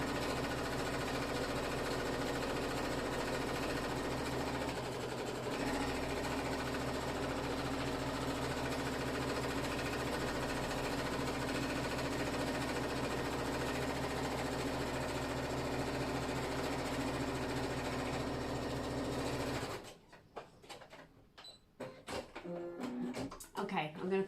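A sewing machine runs steadily at close range for about twenty seconds while stitching the seams of jeans. The motor hum is continuous until it stops abruptly, and then come a few clicks and handling noises.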